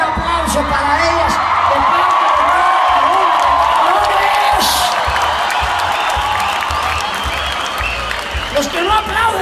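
A concert crowd at the Puebla fair in 2017 applauds steadily in a dense, loud wash of clapping mixed with whoops and cheers, sustained throughout with shouting voices rising over it.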